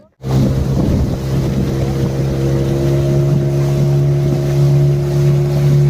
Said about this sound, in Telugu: మనం ఏ బోట్లో అయితే వచ్చామో అదే బోట్లోనైతే మళ్ళీ రిటర్న్ వెళ్ళిపోతున్నాము